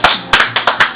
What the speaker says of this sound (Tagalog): Palakpak din.